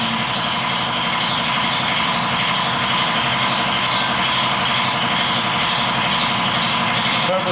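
A turbocharged rotary race engine of about 700 horsepower runs steadily, with a loud, continuous buzzing drone and no change in pitch across the clip.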